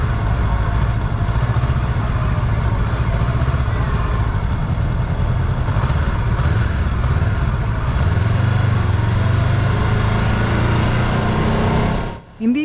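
A Honda CBR 500R motorcycle engine runs loud and close with a steady low drone, its pitch shifting slightly partway through, before cutting out abruptly at the very end.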